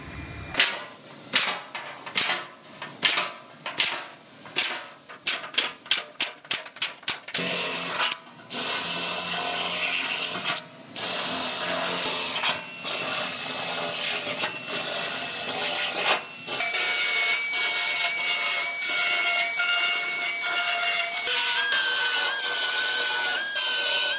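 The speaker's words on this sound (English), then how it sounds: "I'm gonna go ahead and make all my holes for the welds." Drilling plug weld holes in a new car floor pan during rear collision repair on a Toyota: a rapid series of sharp close bangs and bursts giving way to a loud sustained whining drill or hissing air tool, no voices.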